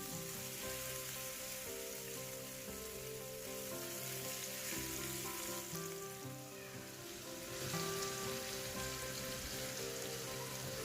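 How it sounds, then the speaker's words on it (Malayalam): Fish pieces frying in well-heated oil in a pan give a steady, dense crackling sizzle that carries on without a break, with a constant tonal background running underneath. "മീൻ വറുക്കാൻ വേണ്ടിയിട്ട് വെച്ച പാനിലെ എണ്ണ നന്നായി ചൂടായിട്ടുണ്ട്. അതിലേക്ക് ഞാൻ മീൻ കഷ്ണങ്ങൾ ചേർത്ത് കൊടുക്കുകയാണ്"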